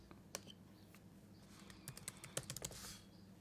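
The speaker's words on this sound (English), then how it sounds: "I'm going to go ahead and type in the person I want to invite." Fingers type on a computer keyboard while an Outlook message is addressed, producing quiet scattered key clicks that grow into a quicker cluster of taps toward the end.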